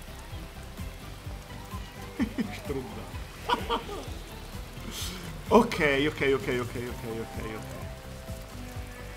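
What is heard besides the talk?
rain falling in the video game Astro's Playroom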